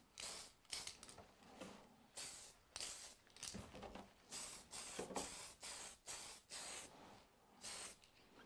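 Rattle-can spray paint hissing onto an RC car body in a steady series of short bursts, each a second or so long with brief pauses between, close and fairly loud with no talking.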